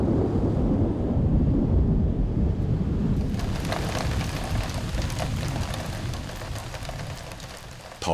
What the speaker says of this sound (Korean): 더위를 달래줄 시원한 소나기가 내립니다.